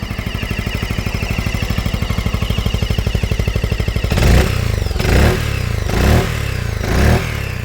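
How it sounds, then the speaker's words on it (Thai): A Lambretta G350 scooter engine idles with a steady rapid putter, then revs up in four sharp bursts, loud and close. "ฟังเสียงเครื่องยนต์ครับ"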